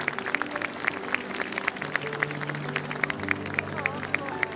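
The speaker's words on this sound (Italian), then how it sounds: "Comincio col fare un grande applauso a Maria Grazia Bortolato" Scattered clapping rises from an outdoor crowd at a carnival presentation in a large city square, uneven and moderately distant, with crowd murmur and a low steady hum underneath.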